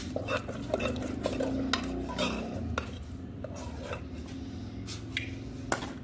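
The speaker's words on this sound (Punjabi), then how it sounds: "ਚੰਗੀ ਤਰ੍ਹਾਂ ਮਿਕਸ ਕਰ ਦਿਓ" Food stirred and mixed in a pot with a utensil, continuous scraping and clinking of metal against the pan, fairly close and steady throughout with occasional sharper knocks.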